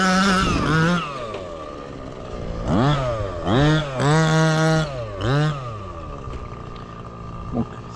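A Cox gas engine in a 1/6-scale FG Marder Baja RC car, still being run in, idles and then revs in several rising and falling bursts nearby, a loud buzzing two-stroke whine, with a voice talking before the revs.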